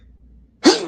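A single sharp sneeze bursts out after a near-silent moment, loud and close, with a brief breathy tail.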